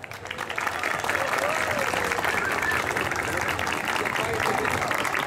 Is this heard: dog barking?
no